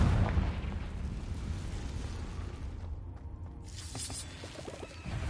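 A Confringo spell explosion booms in the Hogwarts Legacy video game, a loud deep blast that rolls and rumbles for several seconds before a smaller burst of crackling debris near the end.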